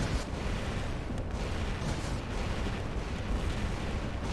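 Squall weapon firing in War Robots, a dense, sustained barrage of rapid booming shots and explosions that stays loud and close throughout, with no talking over it.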